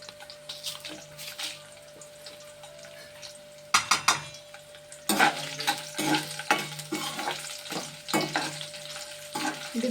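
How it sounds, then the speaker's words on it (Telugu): Dried red chillies dropped into hot oil, with a steady crackling sizzle and short bursts of louder spattering and stirring scrapes in the pan. "ఇవన్నీ ఎండుమిరగాయలు వేసేస్తున్నాను ఇందులో."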